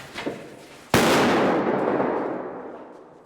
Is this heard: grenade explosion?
yes